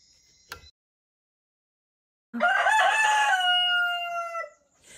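A rooster lets out one loud, drawn-out crow nearby in the morning at a woodland lodge in Antigua, preceded by a brief cluck and silence.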